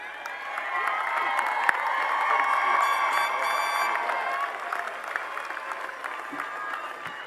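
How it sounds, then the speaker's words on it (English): A graduation crowd at Dominguez Hills State University breaks into applause and cheering, a broad sustained roar of clapping with shouts and whoops rising through the middle and easing off toward the end, voices mixed into the din. "Please give Franco Vega another round of applause, our speaker"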